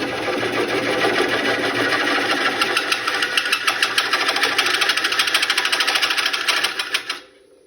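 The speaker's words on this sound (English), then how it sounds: "I'm also not turning the lathe very quickly" A wood lathe spins an old bowl being re-turned, giving a steady close motor whir with a fast rhythmic ticking that winds down and stops near the end.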